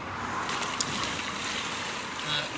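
Water poured from a bucket down the vent of a Mini Cooper Convertible makes a steady, hissing rush of splashing liquid lasting the whole moment, fairly even in level with a faint breathy, windy texture.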